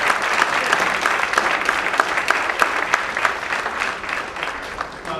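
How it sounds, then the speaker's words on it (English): An audience at a senior athletic awards ceremony applauds steadily for Mr. Cole, a dense wash of many hands clapping that holds for about five seconds before easing slightly toward the end. "how about a nice round of applause for Mr. Cole here?"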